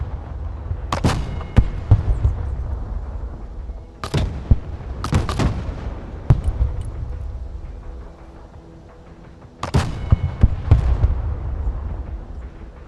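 Artillery fire mission in the video game Broken Arrow: three clusters of heavy, booming shots arrive a few seconds apart, each a sharp volley of blasts with rumbling low tails, loud and with no talk over it.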